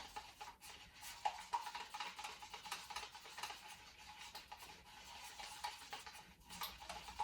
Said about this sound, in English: scrape the bottom of the cup just to make sure that I've really stirred the two parts A and B together really well